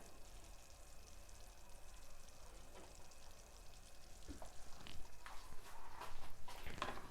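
Fig syrup coming to a boil in a pot, a soft, low-level bubbling and sizzling that grows slightly busier toward the end, heard alone without talk.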